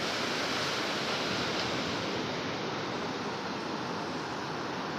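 Sea waves wash in steadily at Palolem Beach in Goa, a dense, continuous roar of surf close by, with no voices.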